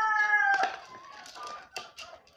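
Chickens on a Filipino backyard farm cluck and call near the feed mix, with a rooster-like crowing tone in the first second and a few sharper clucks after.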